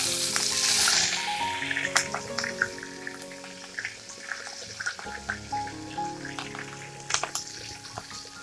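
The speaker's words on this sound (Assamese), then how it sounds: "এতিয়া আমি তেলত অলপমান মেথি গুটি দিম।" Fenugreek seeds hit hot oil for an Assamese tomato fish curry, a sharp hiss bursting up at first and then settling into faint crackling, broken by scattered clinks and clatter.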